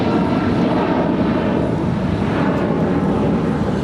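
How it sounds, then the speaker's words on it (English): A United Airlines Boeing 757-200 departing LAX, its jet engines a loud, steady broadband roar close by, holding constant for the whole stretch with no speech over it. "That is United Airlines 1250 departing to San Francisco. It's a 757-200"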